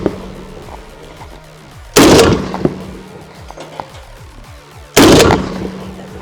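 A .50 caliber AK mounted on top of a Soviet T-34 tank fires two single, very loud, close blasts about three seconds apart, each with a short ringing tail over a low mechanical hum.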